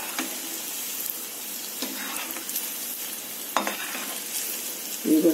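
Veg Manchurian balls deep frying in oil for a second time, giving a soft, steady bubbling hiss with faint stirring clinks and a louder burst near the end.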